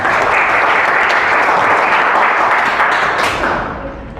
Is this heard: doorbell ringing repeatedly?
no